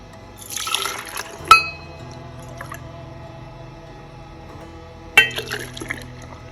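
Milk poured into a glass jar, splashy liquid bursts at the start and again near the end with a soft glassy clink between, close up and quiet with no talking.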